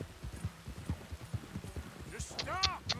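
A horse in the video game Red Dead Redemption 2 clip-clops steadily on its hooves, then lets out a short whinny near the end, with someone talking over it.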